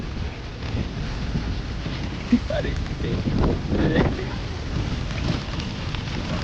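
Wind drives rain across an open area near an MIDC industrial zone in Chennai. The wash of rain and gusts continues throughout, with a brief bump and a few short spoken words over it.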